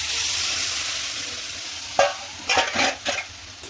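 Cooked sprouted moth beans are tipped into frying masala for misal, a steady sizzle broken by a sudden clatter and several brisk stirring scrapes, close by.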